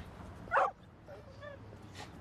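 A dog gives one sharp bark, then a few soft whimpers and yips follow at a moderate distance over quiet background noise.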